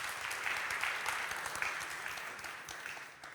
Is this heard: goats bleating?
no